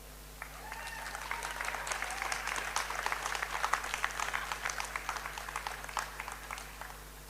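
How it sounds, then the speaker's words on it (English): Sustained crowd applause at a Nyéléni Global Forum gathering, steady dense clapping from many hands filling the whole stretch at moderate level, with no talk over it. "Clap for that."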